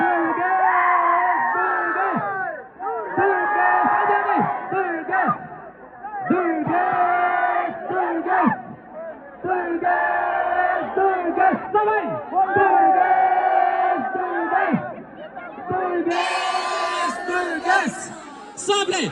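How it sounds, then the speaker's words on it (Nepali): A large crowd roars, whoops and chants nonstop in loud rolling waves, with shouting voices and a brief higher burst of cheering toward the end. "जोरदार हल्लाको साथमा अब भने स्वागत गरौँ दुर्गेश"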